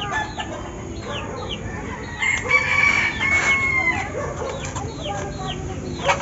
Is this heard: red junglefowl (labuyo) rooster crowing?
yes